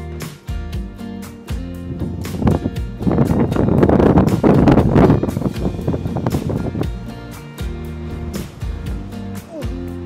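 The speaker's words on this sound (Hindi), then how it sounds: "तेज हवा चल रही है गाइस, आई डोंट नो मेरा ऑडियो क्लियर हो गया है नहीं" Strong wind buffets the microphone at a hilltop monastery in Georgia, loud low rumbling gusts that rise and fall, with intermittent clicks and rustle.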